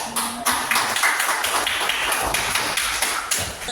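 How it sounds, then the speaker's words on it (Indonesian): A classroom group claps together at a teacher's prompt, giving a brief burst of sharp, close hand claps with uneven taps over a few seconds and no speech. "Tepuk tangan."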